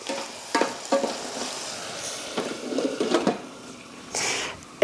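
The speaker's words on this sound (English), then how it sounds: "So I'm going to continue to check on my carrots and just give them a stir" Carrots being stirred in a cooking pot for carrot soup, with intermittent scraping and sizzling bursts from the pan, fairly close and moderately loud, no talking.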